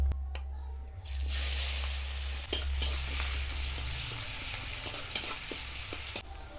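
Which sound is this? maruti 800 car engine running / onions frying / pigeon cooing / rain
onions frying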